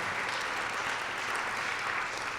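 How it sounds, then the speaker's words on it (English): Audience applause at a college graduation and awards ceremony, a steady, even wash of many hands clapping at moderate volume with no voices over it. "let's have a round of applause for the Gateway faculty and all that you do"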